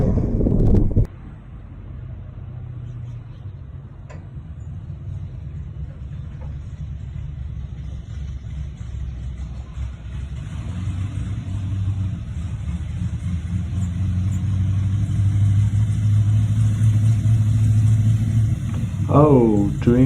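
A Chevrolet Chevelle street muscle car with twin carburetors pulls away, its deep engine rumble building steadily and loudly over about twenty seconds, with a brief sharp noise at the very start.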